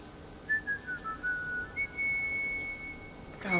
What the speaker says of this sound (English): Oh, nice whistling.